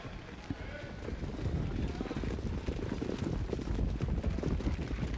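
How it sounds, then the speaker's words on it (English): Trotters leaving the gate at the start of a harness race, a steady rumble of many hooves and sulky wheels with a crowd murmuring underneath, dense and continuous throughout. "Off and trotting"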